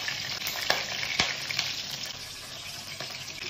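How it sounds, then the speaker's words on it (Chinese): Spicy crayfish sauce stir-fries in hot rapeseed oil with ginger and scallion, a bright steady sizzle broken by several sharp spatula scrapes and clacks against the wok, close and unaccompanied by speech. "炒出红油，炒出香味"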